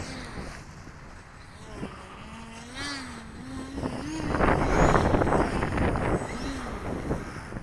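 Strong wind gusting across an open airfield where small model planes are flown, a broad rushing roar that swells louder midway and buffets the microphone, with a thin engine whine rising and falling underneath.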